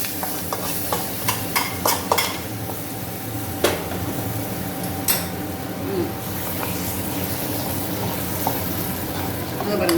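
A hot tempering with curry leaves sizzles and is stirred for yellow pongal, with a steady frying hiss and a few sharp scrapes and clinks early on.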